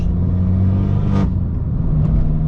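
Fiat 500 Abarth with a Stage 2 tune gives a steady, close exhaust burble: a low, even rumble held throughout with a brief rising swell midway, loud and alone without talk.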